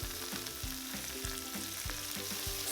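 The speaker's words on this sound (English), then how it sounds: "Stir fry on high heat until the aroma comes out for about 1 minute." Ginger, garlic and scallions stir-fry over high heat, a dense constant sizzle with rhythmic scraping strokes of a spatula against the wok, close and steady throughout.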